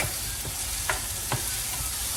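Onions and chicken sizzle steadily in a frying pan, with a few soft scraping stirs breaking through the constant frying hiss.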